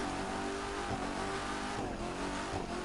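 Corvette supercar engine in the racing video game The Crew 2, a steady, loud, droning roar holding at high revs throughout with slight pitch shifts, no talking over it.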